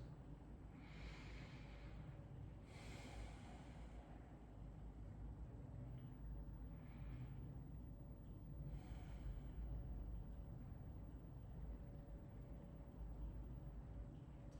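Slow, quiet breathing in and out during a gentle yoga session, with a few soft, drawn-out breaths spaced several seconds apart over a steady low background hum, and no talking.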